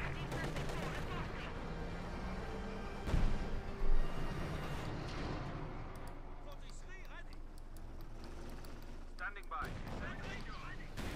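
Gunfire and explosions in Company of Heroes 2, a 1v1 match with Soviet conscripts and guardsmen, form a dense, continuous battle din with a few louder bursts midway, heard under a commentator's voice.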